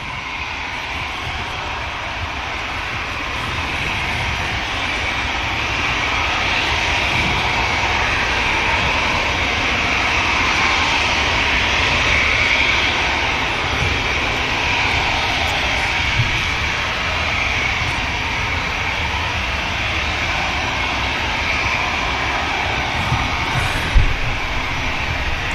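A Norwegian Air Sweden jet airliner departs Manchester Airport, its engines producing a steady, loud, broad roar with a faint whine that holds nearly unchanged throughout, without any voices.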